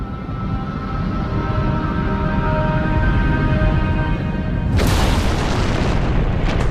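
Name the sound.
boom effect of colliding rocky masses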